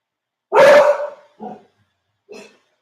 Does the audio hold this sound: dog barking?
yes